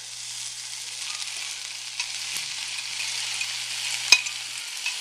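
Crispy tortillas fry in a pan for chilaquiles with a tomato mixture added, giving a steady bright hiss and sizzle with a couple of faint clicks and one sharper tap.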